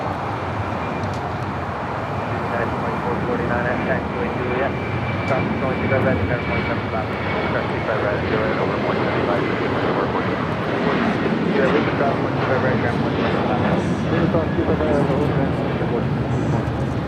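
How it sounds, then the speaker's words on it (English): A United Airlines Boeing 737-800 taking off at LAX, a continuous loud engine roar with broadband rumble and whine holding steady, with a voice talking over it. "Next takeoff, United Airlines flight 1912, heading to Denver in a"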